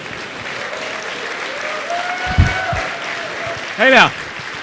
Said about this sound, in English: Let's all clap for the death of IE6.